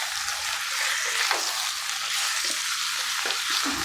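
Mutton pieces hitting a hot pan over high heat with chilies and oil, a loud broadband sizzle that holds steady with light stirring scrapes.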